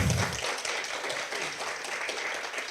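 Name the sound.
conference audience applause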